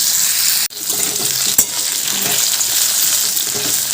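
Potato pieces frying in oil until reddish, a steady close crackle and hiss with a sharp metallic knock early on and another tap a second later, loud and continuous without voices.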